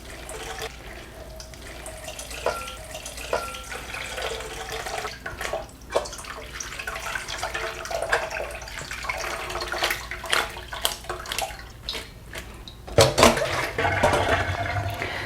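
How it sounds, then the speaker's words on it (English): Boiling water pours and splashes steadily over cut fish cake in a container, close and continuous, growing a little louder and more gushing toward the end. "we rinse out the fish cake with boiling water"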